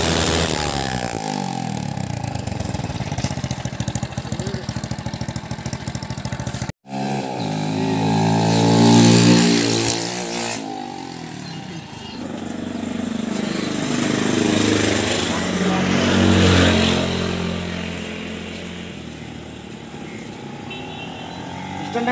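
Motorcycle exhaust fitted with a pipe cutter silencer, a loud raspy engine roar heard up close, rising and falling through repeated revs with a sharp cut partway, continuous for over twenty seconds.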